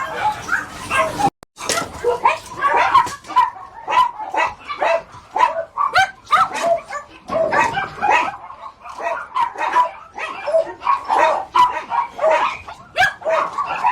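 Dog at a Korean dog meat farm barking, yipping and whimpering repeatedly and close by throughout, with voices speaking over the noise.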